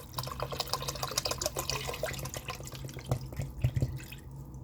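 Water from a bottle pours into a soup pot, a steady splashing and trickling stream running for several seconds with faint drips.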